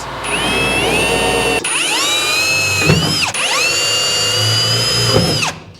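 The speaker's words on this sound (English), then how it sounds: "I'm just gonna drill a couple more holes" A loud power drill whines in sustained bursts through metal on a 1953 GMC cab, pitch rising and falling as it bites, with brief pauses between runs.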